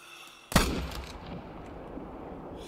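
A single hunting rifle shot in theHunter: Call of the Wild, a sharp loud crack followed by a rolling echo that fades into the quiet outdoor ambience.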